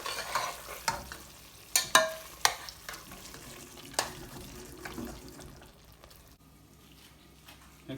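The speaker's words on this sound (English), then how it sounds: "we left it on low heat to simmer away" Chicken tikka aloo bhuna with tomatoes and coriander cooks in a pan on low heat, a soft sizzle beneath several sharp clinks of a spoon stirring, fading quieter toward the end.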